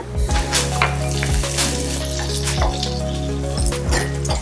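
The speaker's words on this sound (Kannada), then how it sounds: "ಬೇಳೆ ಇದೆಲ್ಲನೂ ಕೆಂಪಾಗುವಷ್ಟು ಹುರ್ಕೊಂಡು ಇದಕ್ಕೆ ಕರ್ಬೇವು ಮತ್ತು ಕೆಂಪು ಮೆಣಸಿನ್ಕಾಯಿನ ಸೇರಿಸ್ಕೊಳ್ಳೋಣ" Lentils, curry leaves and red chillies sizzle in hot tempering oil, a loud continuous frying hiss close by with a few clinks and stirring knocks, accompanied by a steady low hum in the background.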